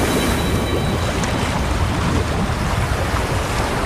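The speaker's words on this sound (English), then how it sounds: "That's a really big waterfall." Big waterfall in the video game Wuthering Waves, a steady broadband rush of falling water, loud and continuous throughout with no pauses.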